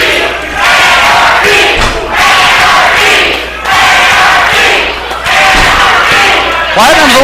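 An arena crowd at a Cornelia wrestling match, Team Anarchy versus Team Platinum, roars and cheers wildly in loud surging waves, with commentators talking over the din.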